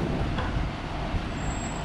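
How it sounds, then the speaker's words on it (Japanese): The pink line Waikiki Trolley bus arrives on a busy street, a close, steady engine rumble with traffic noise and a faint high whine. "はい、また次違うのが来ました。 これはさっき一番最初に出てたワイキキトローリーですね。"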